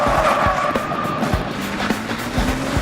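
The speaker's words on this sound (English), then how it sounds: "pulled the e-brake and flipped around" A car is thrown into a handbrake turn, its tires squealing in a strained, wavering skid over engine noise. Low thumps and bumps carry through the whole turn.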